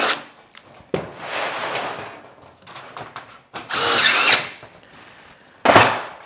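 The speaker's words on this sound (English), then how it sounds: "So this nibbler gave us our 1/4 inch curly Q of scrap." A nibbler cuts through steel roofing sheet in several loud, grinding bursts of varying length separated by short pauses and handling clatter, close to the listener.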